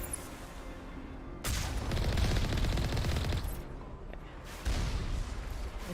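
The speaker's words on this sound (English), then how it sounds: "Who's shooting at me? Someone else shooting at me?" Rapid gunfire rattles in Mass Effect Legendary Edition, with loud sustained automatic bursts that pause briefly and then resume in a second heavy volley.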